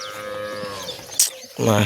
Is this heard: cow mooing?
yes